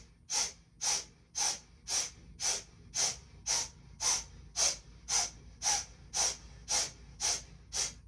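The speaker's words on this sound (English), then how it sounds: "Continuing to pump that navel as you forcefully exhale out the nose, and you'll notice the inhale in the nose comes naturally." Forceful nasal exhales during a kundalini yoga navel-pumping breath: about fifteen sharp, hissing puffs through the nose in a quick, even rhythm, each roughly half a second apart, close and fairly soft, with quiet passive inhales between.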